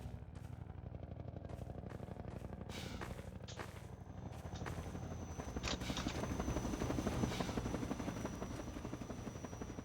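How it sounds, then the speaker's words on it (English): Combine attack helicopter from the video game Half-Life 2, a steady rotor drone that swells louder toward the middle of the stretch, with a thin high whine and scattered sharp game effects over it. "Combine attack helicopter."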